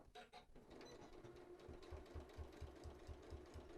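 A sewing machine lock stitches back and forth across a patchwork fabric pet leash, its needle thumping in a steady, quick mechanical rhythm, close and quiet.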